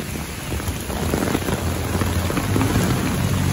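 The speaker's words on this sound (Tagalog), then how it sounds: "ingat kayo lagi sa tuwing umuulan at sobrang lakas na" Heavy typhoon rain pours down steadily with no break, a dense, loud hiss of rainfall drumming on surfaces up close, with no voices.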